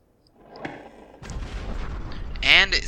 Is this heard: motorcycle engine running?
no